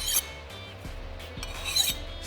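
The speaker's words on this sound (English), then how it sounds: "Skates the file really nice." A file skates across the hardened steel of a freshly quenched butcher's cleaver blade, giving a few close, dry rasping strokes with brief pauses between them.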